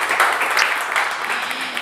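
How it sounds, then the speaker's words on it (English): Steady applause from a live radio show audience, a dense wash of clapping lasting the whole short moment at moderate loudness with no voices over it. "How about one more round of applause for Billy Jones, the first half of the show here today?"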